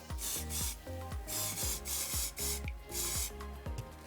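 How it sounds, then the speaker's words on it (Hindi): A highlighting setting mist is sprayed onto a makeup brush in a series of about six quick, hissing bursts, close and fairly loud, over background music. "तो ब्रश के ऊपर बस स्प्रे करते हैं हम पहले"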